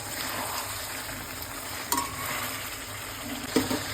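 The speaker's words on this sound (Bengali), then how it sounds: "তো আমি এটা এই চিকেনটাকে একটু মাখাই করব।" Chicken pieces with capsicum frying in a pan, stirred with a few spoon scrapes over a steady close sizzle, with two brief clinks of the utensil against the pan.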